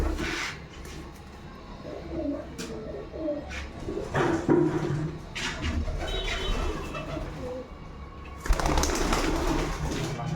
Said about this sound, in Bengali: একটা সেরা কবুতর, এটা আমার মতি চোখ